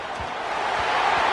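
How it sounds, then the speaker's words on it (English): A home crowd roars steadily at Saban Field during a third-down play in an Alabama vs Texas A&M college football game: a dense, loud, unbroken wash of voices that swells slightly toward the end. "The Tide crowd rolling noise down onto Saban Field on 3rd down"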